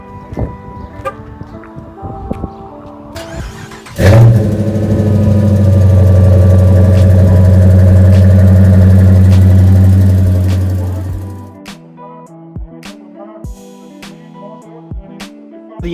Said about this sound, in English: Do a little cold start here.